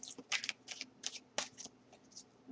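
Tarot cards being shuffled up close in quick, soft riffling bursts, several brisk flicks in a row over about two seconds, fairly quiet.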